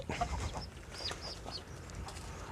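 Hens cluck in a shared farm pen, soft irregular clucks and short calls repeating over steady barnyard background noise, close to the listener.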